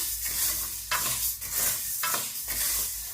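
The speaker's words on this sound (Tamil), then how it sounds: "இந்த பயறு நல்லா பொன்னிறமாகும் வரையில் நாங்கள் இதை பயரை வறுத்தெடுக்க வேணும்" Mung beans dry roasting in a pan for a traditional Sri Lankan aadi koozh porridge, with steady stirring scrapes and a soft crackle repeating in rhythmic sweeps, close and alone with no talk.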